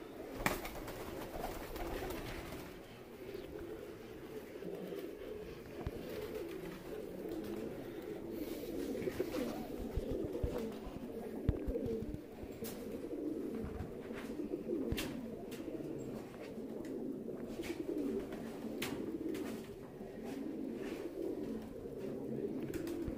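Pigeons coo continuously in low, rolling murmurs, many birds close by, with occasional faint clicks and flutters.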